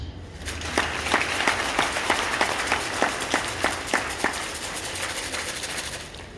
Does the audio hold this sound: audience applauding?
yes